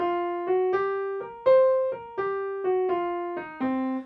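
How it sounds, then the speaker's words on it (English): A piano plays a blues scale in a clean classical style: about nine distinct notes, each struck separately in an even rhythm and ringing clearly, with no voices. "So blues scale played by a classical musician would sound like this."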